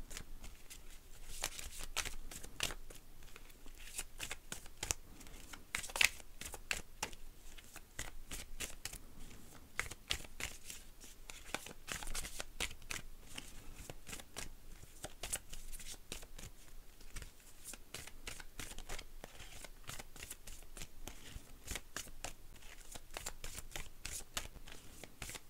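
Oracle cards being shuffled for a tarot-style reading, a steady soft papery riffling and flicking that runs throughout at low volume, with no talk.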